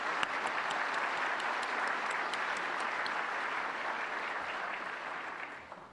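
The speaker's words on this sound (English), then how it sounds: "another round of applause for Congresswoman Eshoo" At an innovators' awards event, a crowd claps for a congresswoman in a steady, full round of applause with a few sharp individual claps standing out, fading toward the end, no voices heard.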